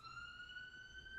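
An ambulance siren outside holds one faint, steady, slowly rising tone over low background rumble.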